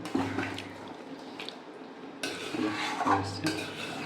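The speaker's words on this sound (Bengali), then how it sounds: "ফুটে গেছে নেড়ে দাও তলা পড়ে লাগছে" A spoon scrapes and clinks in a pot of simmering fish curry, with soft bubbling, scraping strokes at the bottom and a few metallic taps, fairly quiet and close, while people talk in the background.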